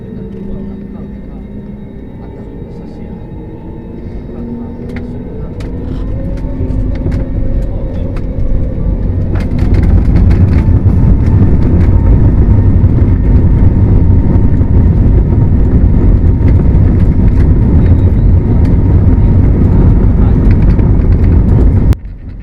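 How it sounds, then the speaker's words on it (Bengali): Heard from aboard, an airplane accelerating down the runway for takeoff sets up a low rumbling roar that swells after a few seconds, then stays loud and steady until it cuts off. "রানওয়ে থেকে দ্রুত গতিতে বিমানটি ছুটে চলছে আকাশে ওড়ার জন্য।"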